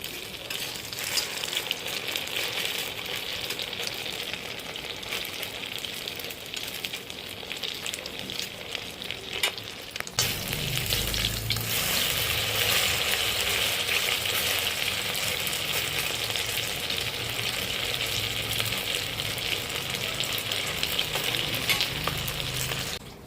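Small pieces of flour dough frying in oil, a continuous crackling sizzle that swells louder and denser partway through as more pieces drop in, close and steady with no talk.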